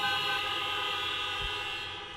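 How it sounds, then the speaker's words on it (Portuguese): A car horn gives one long, steady honk, a loud sustained tonal blare that holds evenly for about two seconds before starting to fade. "Dá uma buzinada."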